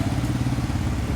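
A Hero XPulse motorcycle riding along on a trip toward Wayanad, its engine giving a steady, dense low rumble with wind noise throughout and no talk.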